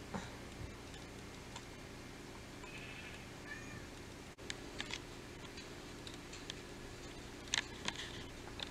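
A cat meows a few times at moderate distance over a quiet background, with light ticking clicks scattered throughout.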